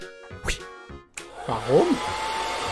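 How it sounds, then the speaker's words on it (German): A hair dryer in an animated cartoon switches on and blows with a steady whooshing hum, loud and close, after a short burst of cartoon speech and a brief wordless vocal sound from a character. "Aber erstmal föhnen."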